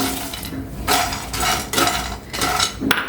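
Pumpkin and sunflower seeds with pistachios and walnuts are dry-roasted in a pan, giving repeated rattling, scraping sweeps as a spatula turns them, close and fairly loud in rhythmic bursts with no speech.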